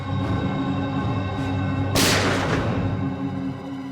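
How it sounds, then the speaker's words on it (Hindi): A single loud, sharp gunshot bursts out midway through a tense TV drama scene, ringing over steady background music with no voices heard. "सर गोली चलने की आवाज है।"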